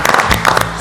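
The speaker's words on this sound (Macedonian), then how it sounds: "голем аплауз" Applause from a small studio audience for contestants on a cooking reality show, a brief burst of clapping, fairly loud and close.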